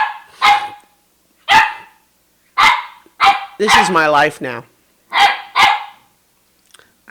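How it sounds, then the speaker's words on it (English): A dog named Rocket barks in loud, sharp bursts, roughly eight barks in short clusters spread across the stretch, with someone talking in between. "Less sorry about the barking."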